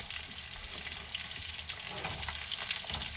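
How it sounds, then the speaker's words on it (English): Greek meatballs frying in a pan give off a steady, faint hiss and crackle of sizzling oil, continuous and fairly close, with occasional soft stirring scrapes. "sorry for the noise, it's making some Greek meatballs"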